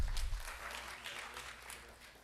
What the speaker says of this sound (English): Good clapping.